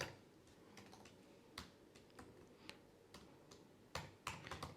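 Typing Python code on a computer keyboard, a steady run of light key clicks with a few louder taps near the end, alone and at close range with no talking.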